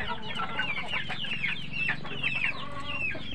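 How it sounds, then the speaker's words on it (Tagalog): Backyard chickens in a hen enclosure clucking and squawking, several close birds calling in overlapping irregular bursts over a low steady background hum. "Maldita ng manok."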